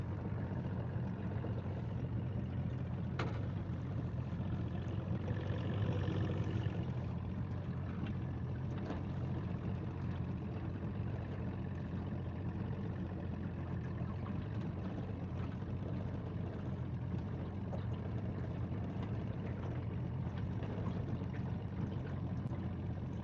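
A fishing boat's outboard motor runs at full throttle on a lake, a steady moderate drone with water rushing beneath it, holding an even tone throughout.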